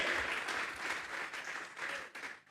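Church congregation clapping during a Sunday service, steady dense applause filling the whole stretch with no break.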